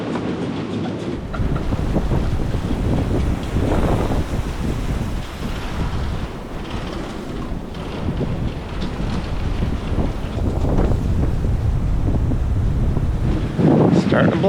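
Hurricane-force wind roars across a sailboat anchorage, a loud, rushing buffet with surging gusts and microphone wind noise, broken by a brief spoken remark.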